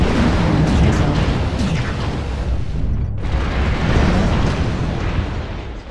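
Incoming missile explosions in the mech combat game MechWarrior Online on a polar highlands map, a loud continuous rumble of booms and blasts with one brief dip midway.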